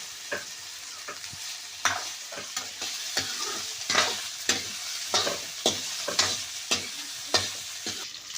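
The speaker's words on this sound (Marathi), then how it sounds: "त्यांनी ते व्यवस्थित तेलामध्ये मिक्स करून घ्यायचं काम चालू आहे" Spices, green chillies and coriander, are stirred and fried in oil in a kadhai, with a soft sizzle under repeated sharp scraping strokes of the spoon at a steady rhythm, close and alone.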